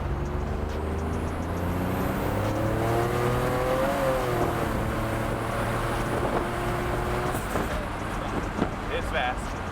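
Turbocharged car running 25 psi of boost on a speed run, engine note climbing steadily as it accelerates, loud and close, with people talking over it.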